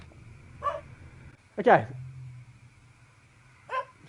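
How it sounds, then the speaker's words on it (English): A dog barks in the video game Nocturnal Visitors, a few short, sharp barks spaced apart against a quiet indoor backdrop, with a voice speaking briefly. "Let's go and see the dog."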